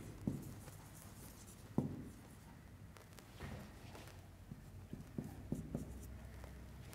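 Handwriting on paper during an English grammar lesson, faint scratchy strokes and occasional taps of the pen, set against a quiet room with low background noise.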